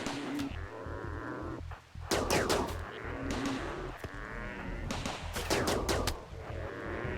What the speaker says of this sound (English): But what I can do is use some of the automatic turrets.